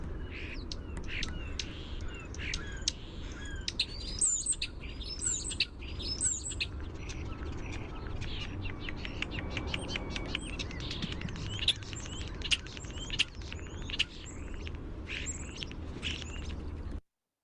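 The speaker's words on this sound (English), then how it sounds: "So what you may notice about the starling's call" European starling calls from a played recording: a dense run of clicks, whistles, rattles and chirps, loud and continuous for about seventeen seconds with no talking.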